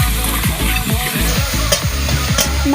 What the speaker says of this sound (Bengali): মা মশলাটার সাথে টমেটো কুচিটা নেড়ে চেড়ে মিশিয়ে নিচ্ছে।